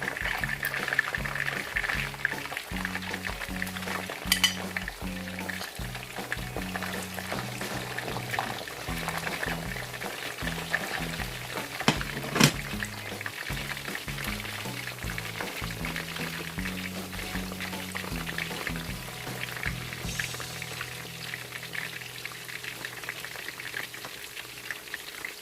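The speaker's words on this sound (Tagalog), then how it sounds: "We will deep fry this guys until it becomes crunchy and brown" Pork pieces deep fry in very hot oil with a dense, continuous crackling sizzle, steady and close throughout with occasional louder pops.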